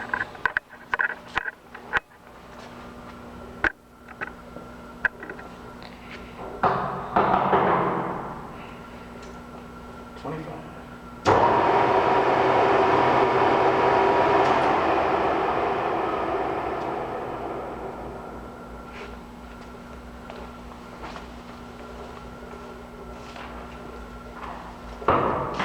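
A USA-made Century sliding gap lathe runs at 202 RPM in a shop, a steady mechanical drone and hum under scattered clanks and thumps, swelling louder midway before slowly easing off.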